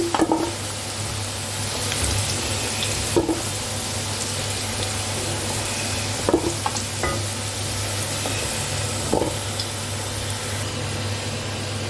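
Whole spices, cardamom, cloves and cinnamon sticks, tempering in hot oil for a mutton curry: a steady close sizzle with occasional sharp pops and stirring clinks.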